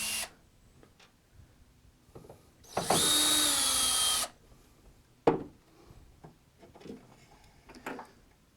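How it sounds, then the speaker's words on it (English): A drill screwdriver backs a screw out of a modular analog synthesizer case in one loud, close whirring burst lasting about a second and a half, followed by quieter clicks and handling knocks. "I'm going to use this drill screwdriver and just pull it right out."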